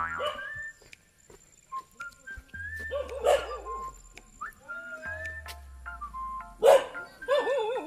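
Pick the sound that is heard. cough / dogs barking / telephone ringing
dogs barking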